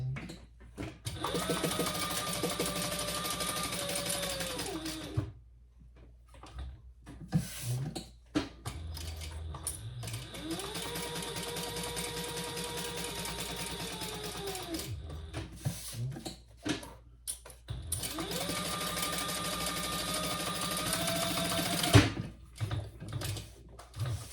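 A sewing machine stitches around the ID window of a trifold men's wallet in three sustained bursts of rapid, even whirring, separated by short pauses filled with quiet handling clicks.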